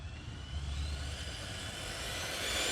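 Rlaarlo XTS-S10 RC rally car running at full throttle, a steady high-pitched electric motor whine with broadband rush that builds slightly in loudness as it passes, no talking.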